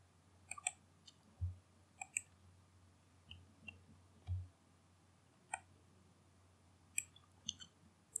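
Mouse clicks on a computer while working in project management software, a scattered series of sharp, light, close taps at irregular intervals, alone with no talk.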